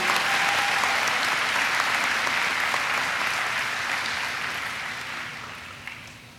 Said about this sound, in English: an applause, please, for the row